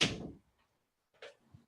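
A door shuts indoors with a single dull thud that fades quickly. After a pause, soft scuffs and a faint knock follow.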